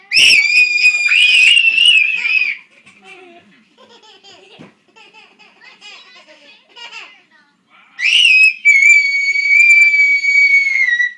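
A young girl gives shrill, high-pitched screams in two loud bursts at the start and end, with laughter and quieter child chatter between them during a game of peek-a-boo.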